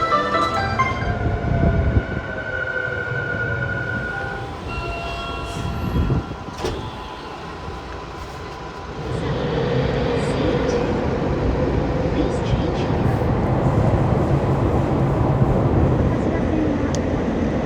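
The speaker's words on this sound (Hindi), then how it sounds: "ये है 7 नंबर प्लेटफॉर्म, इधर आएगी अपनी ट्रेन शिबुया की।" A train pulls into platform 7 for Shibuya at a Japanese station, a broad steady rumble that swells and holds as it arrives, with station ambience and a brief squeal or tone early on.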